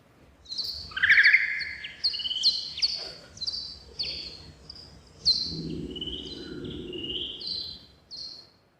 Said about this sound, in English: That was bat ultrasound, recorded above your hearing range, but slowed down so you could hear.